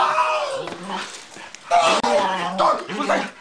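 A dog barks, yips and whimpers in agitated bursts, fairly close and loud, with excited voices talking over and between the sounds.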